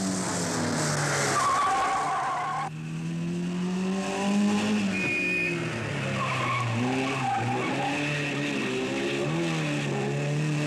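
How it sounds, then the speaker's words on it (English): A Triumph rally car spins and skids on an Alpine road during the Coupe des Alpes rally, tires squealing in long wavering tones over a loud engine, close and continuous with no voices. "And Annie Swabo spun her triumph."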